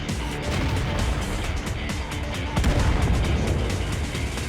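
Booming tank cannon shots and explosions from a tank battle video game rumble loud and heavy, with a dense battle din throughout and a stronger blast partway through.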